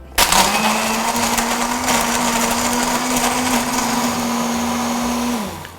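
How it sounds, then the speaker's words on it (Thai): An electric blender whirs loudly and steadily while blending a mango smoothie with ice, with crunching and cracking ice over the motor's hum, running continuously for several seconds before winding down. "จากนั้นก็ ปิดเครื่องแล้วก็ปั่นได้เลยนะครับ"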